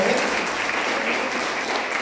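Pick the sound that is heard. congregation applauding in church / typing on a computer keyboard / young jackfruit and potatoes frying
congregation applauding in church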